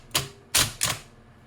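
An IBM Selectric II electric typewriter converted into a teletype strikes three sharp, loud keys close up, with a short pause after the first stroke and no voices.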